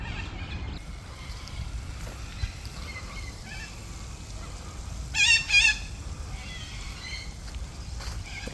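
Faint birds call now and then in a Melbourne park over a low steady rumble, with a brief louder burst of squawking in the middle.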